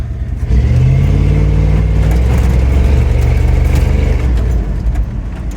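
A 1984 Ford F250 truck engine roars loudly through its exhaust, a steady deep rumble held at high revs for several seconds before easing back slightly near the end.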